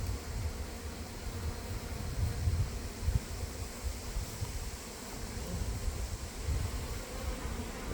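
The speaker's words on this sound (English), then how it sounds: "I forgot my smoker, so hopefully the bees are nice." Honey bees buzz steadily around an open hive during a fall inspection, a dense, continuous hum close by with slight swells in loudness and no voices.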